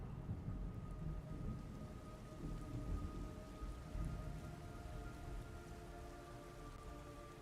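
Steady rain and low rolling thunder in the video game Metal Gear Solid Delta: Snake Eater, a dense, continuous downpour with a few faint sustained tones behind it and no voices.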